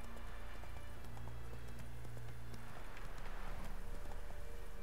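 Hooves of Roach, the horse in the video game Witcher 3, pound in a rapid, steady galloping clip-clop, close and continuous throughout.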